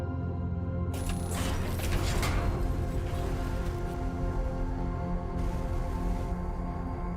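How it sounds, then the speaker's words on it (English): A battery is plugged into a generator to power a door mechanism in the space game Everspace 2, giving a steady mechanical whirring and clanking that runs for several seconds, with a brief bright whine near the start. "let's take this bad boy battery over here, plug it in this generator, and get a door going."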